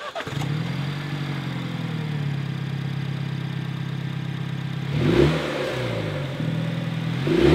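A Mini Cooper S fitted with a CravenSpeed cold air intake, heard from the front: a steady idle hum that swells into a couple of quick revs and then settles back, with no talking.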